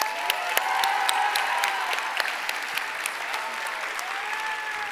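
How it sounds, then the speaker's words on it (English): A youth-day crowd gives a bishop a round of applause after his talk, a sustained, moderately loud wash of clapping with a few sharper individual claps standing out and faint voices beneath. "Can we give Bishop Caggiano one more round of applause?"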